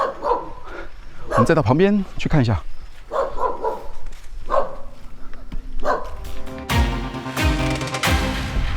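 A chained dog at an abandoned lakeside mansion barks insistently, its yaps and bow-wows recurring under and between nearby talk, with louder bursts toward the end.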